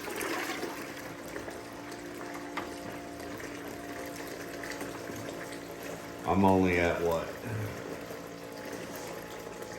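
Water churns steadily from a homemade 12V bucket dredge pumping water around in a tub with some rocks, a constant wash running under speech, with a louder surge partway through as the pump is turned up.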